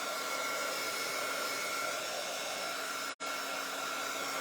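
A hair dryer drying stencil paint, a loud, steady blowing whir close by that cuts out for a moment near the end and then resumes, no talking.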